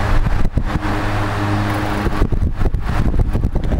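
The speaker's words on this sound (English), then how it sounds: "The oscillator noise." A Mimar 12-inch table fan's oscillator mechanism, noisy and prone to locking up, gives a steady close motor hum broken by irregular clicks and rattles.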